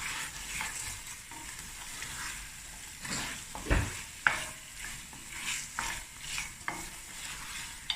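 Meat braises in a pot for a Cape Malay sugar bean stew, with a quiet sizzle under clanking and scraping stirring sounds and a few sharp knocks, fairly close and soft overall.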